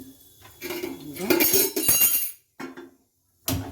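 Clanking of a metal cooking pot being set down on a stove, a few sharp clinks and knocks in quick succession, close by, with a pause and another clank at the end.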